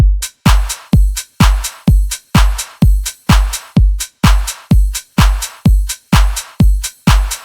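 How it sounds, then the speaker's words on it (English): A ride cymbal part in a lo-fi drum loop plays a steady, evenly spaced pattern of loud, bright strikes, each with a short decay, repeating about twice per second with no talking over it. "the cool thing about this drum loop is this rides part that sounds like this."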